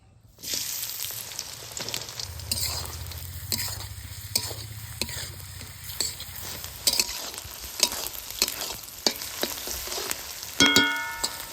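Chopped onion hits hot mustard oil in a pan and sizzles steadily, with frequent scrapes and clinks from a stirring spoon and a brighter burst of frying near the end, close and without talk.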